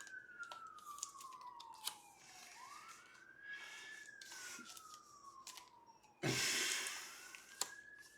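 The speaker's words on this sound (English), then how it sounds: "I live in the hood, so there's lots of sirens and such." A police siren wails through an urban neighborhood, its pitch sweeping slowly up and down at a moderate distance, with a brief louder rush of noise partway through.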